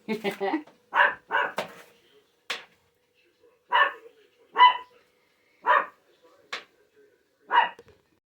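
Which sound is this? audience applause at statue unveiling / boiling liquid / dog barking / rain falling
dog barking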